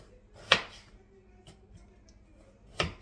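A knife slicing halved carrots straight on a cutting board, giving two sharp, close chops about two seconds apart with quiet pauses between.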